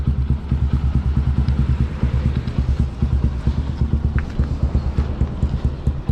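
A motorcycle engine warming up idles steadily up close, its rapid low chugging pulses continuous and even throughout.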